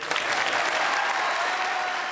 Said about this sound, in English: Jimmy deserves an extra round of applause